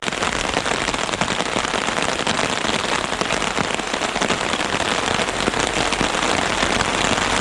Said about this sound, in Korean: 비가 오네, 이거